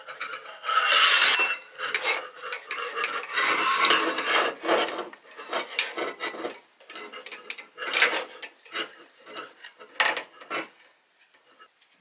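Metal parts of a black-and-gold six-light Sputnik chandelier clink and scrape as pieces are screwed together by hand, a steady run of close, bright rattles and small knocks with brief pauses, no talking.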